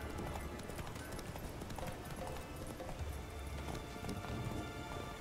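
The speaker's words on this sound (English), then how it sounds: "Atım nerede?" Geralt's horse Roach gallops in The Witcher 3: Wild Hunt, a steady rapid clip-clop of hooves mixed with dense rain-like patter, continuous and fairly close throughout.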